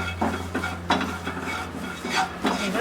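Curry leaves frying in hot oil in a pan with a steady sizzle, broken by several stirring scrapes of a utensil against the pan, close and fairly loud.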